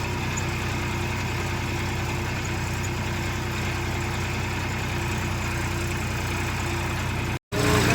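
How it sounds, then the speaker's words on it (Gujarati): A tractor engine runs in a cumin field, giving a loud, steady, low rumbling drone that continues unbroken for several seconds before a brief cutout near the end, with no talk. "એટલે ટ્રેક્ટરની ઝડપ પણ એમ હોય ભાઈ. જો આ રીતે અડાડાટી બોલતી છે."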